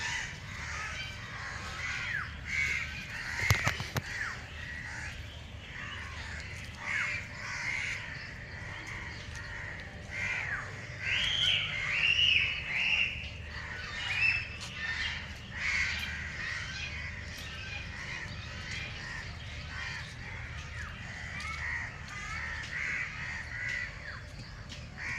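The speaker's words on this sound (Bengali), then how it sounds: "কাক আছে।" Crows caw repeatedly at a park and picnic spot where deer graze. The calls overlap in a steady, busy chorus over about twenty-five seconds, near and fairly loud, with no talking.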